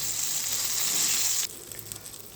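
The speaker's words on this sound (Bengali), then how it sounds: "আমার বেগুনগুলো ভাজা শেষ দুই পাশে সুন্দর করে লাল লাল করে ভেজে নিয়েছি" Eggplant slices frying in hot oil: loud, steady sizzle that quiets abruptly, leaving a softer crackle of frying.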